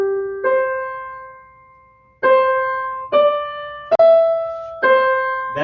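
Renaissance choral music: the soprano section of a four-part choir sings the opening Ave Maria theme alone, a slow line of sustained pure notes entering one after another with clear pauses, close and fairly loud.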